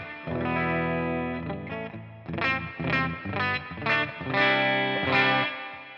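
A Gibson Explorer electric guitar with a mahogany body and flame maple cap plays a short passage of sustained chords and picked notes, rich in harmonics, close and alone.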